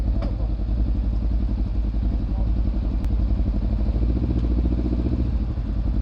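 A motorcycle engine running steadily on a long-distance trip from Telšiai toward Greece, a loud, close, continuous rumbling drone with faint clattering ticks and no talk.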